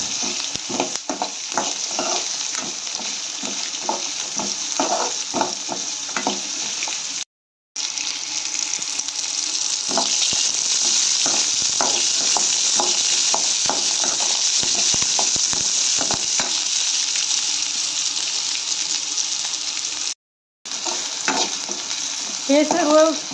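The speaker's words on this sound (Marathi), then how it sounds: "याच्यामध्ये थोडंसं तेल टाकून घेऊया आता आणि हा मसाला व्यवस्थित भाजून घेऊया." Masala of onion and coconut roasts in oil in a pan for a Karnataka-style festival thali, a constant sizzle broken by repeated scraping stirs of a spatula, close and steady, with two brief silent gaps.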